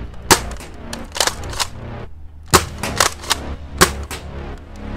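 A Dart Zone Max Stryker foam dart blaster fires on a range in quick bursts of sharp, loud snapping pops, two or three shots close together, a brief pause, then another cluster of rapid shots, heard up close with no talking.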